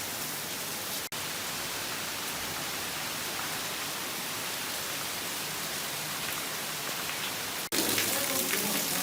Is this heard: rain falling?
yes